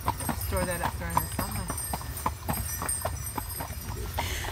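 Horse hooves clip-clop in a steady, fairly quick rhythm as the horse pulls a sleigh through snow in Switzerland, heard close and under continuous talking.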